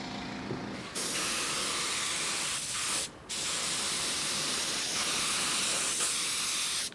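An airbrush sprays paint onto a model Windy U Mster 326 Typhoon, adding camouflage; a steady close hiss runs almost continuously, starting after a quiet first second and breaking off briefly once midway.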